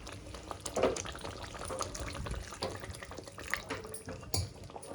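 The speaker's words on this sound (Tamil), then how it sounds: "கிரேவிக்கு ஏற்ற அளவு தண்ணி ஊற்றிக்கலாம்" Water runs and splashes into a paneer curry gravy, a steady liquid pour with a few clinks, fairly quiet and close, no talking.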